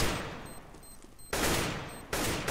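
Gunfire from a Counter-Strike match at a professional esports event on the Train map: two loud, close bursts of rapid shots, one long and one short, with no talking.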